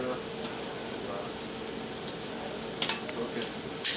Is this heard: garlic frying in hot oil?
yes